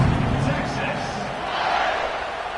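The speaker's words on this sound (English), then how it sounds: "this crowd is buzzing after that last score" A stadium crowd buzzes in an NCAA 26 college football video game after a score, a loud, continuous roar with commentary voices talking over it.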